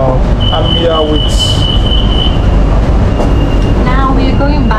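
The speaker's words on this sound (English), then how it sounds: "Right now we are on a train." A train running on rails in Bangkok, heard from inside as a loud, constant rumble with high metallic wheel squeals and whines rising and fading.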